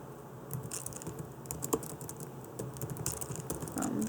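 Fingers type on a computer keyboard while an essay outline and introduction are drafted: steady, close, fairly quiet key clicks in irregular bursts, with no speech.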